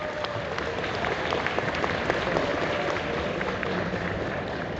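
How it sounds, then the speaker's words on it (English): Steady applause from a comic con panel audience in London fills the room for several seconds, dense and continuous clapping with faint crowd murmur, no voices speaking over it. "Lots of applause,"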